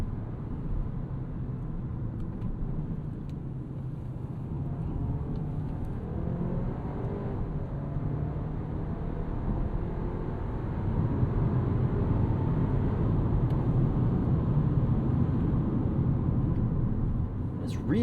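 A 2026 Audi Q3 turbo compact SUV drives on city streets, giving a low, steady, quiet cabin rumble of engine and road noise with no clear jolts at the gear changes, and a voice talks over it.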